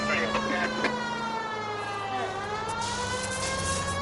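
A police car siren in a PS4 video game wails continuously and loudly, its rising and falling tones sweeping throughout, with a steady engine drone underneath.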